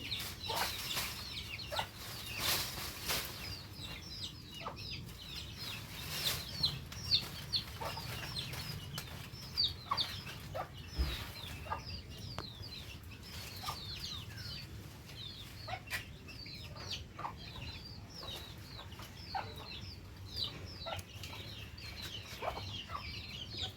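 Chickens cluck softly on and off over a steady outdoor background, with occasional short chirps and rustles scattered throughout; no voices.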